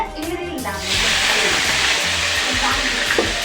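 Chicken goes into a hot wok, and after a brief quiet moment a loud, even sizzle bursts up and keeps hissing steadily to the end.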